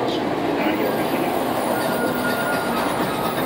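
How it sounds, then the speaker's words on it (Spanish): Tram rolling through Coatepec, Veracruz, heard from on board: a steady, loud broadband rumble of wheels on rail with faint squeal, continuous for the whole stretch, no talk over it. "Venimos en el tranvía."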